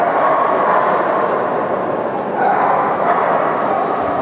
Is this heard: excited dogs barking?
yes